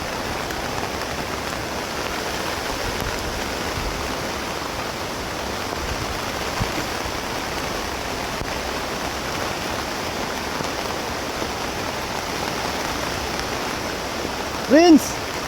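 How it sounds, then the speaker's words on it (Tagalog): Heavy rain pours in a steady, dense hiss throughout, loud and unbroken, with a brief sharp sound near the end. "Yung lakas ng ulan."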